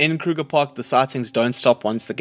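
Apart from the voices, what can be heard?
No everyday noises stand out.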